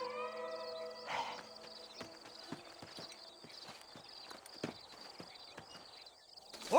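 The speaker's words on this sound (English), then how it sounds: "Horses are over here!" Horse hooves clip-clop steadily in Red Dead Redemption, a run of distinct, evenly spaced hoofbeats at moderate volume over a low ambient game background.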